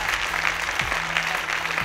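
Audience applause at a televised Azerbaijani contest show, a steady, fairly close wash of clapping hands that runs throughout without a break.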